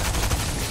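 Rapid gunfire in the Fortnite video game, a dense, loud burst of shots packed tightly together with no clear gaps over a brief moment.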